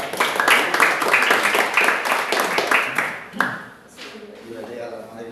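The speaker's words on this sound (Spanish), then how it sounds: "Un aplauso para la hermana Caro." Congregation applause for someone speaker at a church class, a dense burst of clapping from a group that fades after a few seconds, followed by quieter room sounds and a voice beginning to talk.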